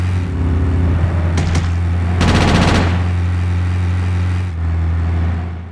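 Gunfire in the video game GTA Chinatown Wars: two quick bursts of shots ring out, a short one then a longer rattling volley, over a steady engine hum that runs throughout.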